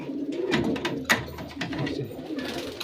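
Pigeons coo in a loft at close range, a steady layered cooing from several birds with a brief sharper flutter or call partway through.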